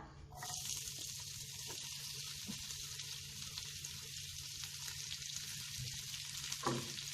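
Three medium onions, sliced lengthwise, fry in coconut oil for a karimeen fish masala, giving a low, even hiss that runs steadily throughout, quiet and unbroken apart from a brief clatter near the end.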